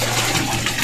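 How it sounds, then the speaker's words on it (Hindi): Continuous rushing gush of water running from a tap to fill a container at home, loud and close for under a second. "तो चलो पानी भर लेता हूँ।"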